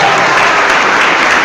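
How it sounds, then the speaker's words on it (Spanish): Loud, dense applause from a church congregation, a steady wash of clapping filling the space without a break. "Aplauso fuerte, que se oiga,"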